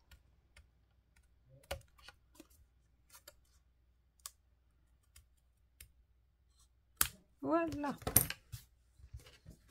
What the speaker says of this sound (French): les petites pattes qu'on voit dépasser, moi, je viens les couper